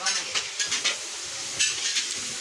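Food being stirred and fried for a Sitala and Bonbibi puja feast in Indrapur, Patharpratima, with a bright sizzle and repeated scraping stirs in a pot, steady and fairly close.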